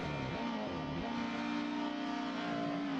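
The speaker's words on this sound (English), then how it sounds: "Alright, lights are up, engines are revving." Several race car engines rev on the grid at the start of a British Touring Car Championship round at Imola, one a Honda, forming a dense, continuous roar with rising and falling pitch, loud and steady throughout.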